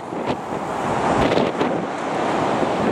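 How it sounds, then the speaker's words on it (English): Strong wind on the Blackpool seafront buffets the microphone in a steady roar, with a wash of surf-like noise underneath and no voices. "It's a little bit breezy on the seafront."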